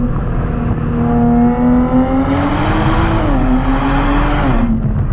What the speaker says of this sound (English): this thing can brake about just as hard as it accelerates too, which is very impressive